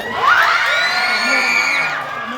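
A crowd of school supporters at a youth competition awards event cheers and shouts together in one loud, sustained swell of voices, rising at the start and holding before fading near the end.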